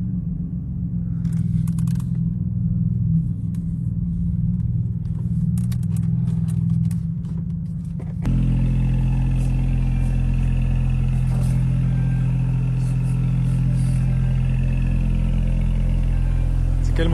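A Porsche Panamera 4S with a 2.9 turbo hybrid V6 idling, a low steady rumble that grows louder and fuller halfway through, with faint clatter, close by.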